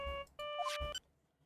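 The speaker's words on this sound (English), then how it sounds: "I bet it was this ringtone that caused it." Phone ringtone in a video game, a short bright electronic melody of stacked tonal beeps, two quick phrases over about a second, then cutting off to near silence.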